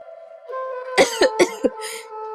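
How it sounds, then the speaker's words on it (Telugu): A cartoon pigeon coughs four times in quick, harsh bursts over a soft, steady musical background. "అమ్మా అలా దగ్గుతూనే ఉంటే ఎలాగమ్మా"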